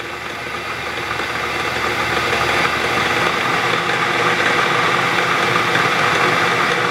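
A milling machine running a carbide cutter through a cutting pass while making a vise stop gives a steady, loud mechanical hum with a gritty cutting texture that builds slightly and holds throughout, with no talking.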